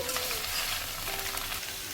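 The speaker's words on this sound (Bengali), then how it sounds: "সবজিগুলো দিয়ে প্রথমে আড়াই থেকে তিন মিনিট হাই আছে নেড়ে নেড়ে একটু ভেজে নেব" Chopped vegetables for shukto stir-fry over high heat in a pan, giving a loud, continuous sizzle and crackle close by with no talking.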